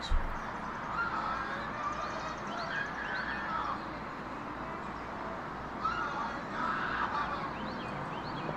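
Agitated birds call outdoors in two distinct bursts of squawking cries, moderately distant and partly buried in steady rushing background noise.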